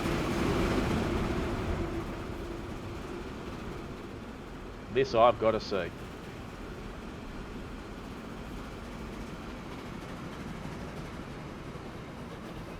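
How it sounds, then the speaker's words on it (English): Transport Fever 2 train running, a steady low rumble that is strongest at first and then fades into a quieter hum, with a short burst of speech in the middle. "Very full train. Let's have a watch."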